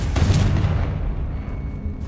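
A Confringo fire spell blasting in Hogwarts Legacy: one sharp booming explosion up front that rumbles and fades over about two seconds.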